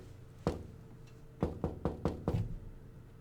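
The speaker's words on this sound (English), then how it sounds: "Sounds like somebody's knocking on the glass." Knocking on glass in a horror video game: a single sharp knock, a pause, then a quick run of five close, hard raps, clear and near against a quiet background.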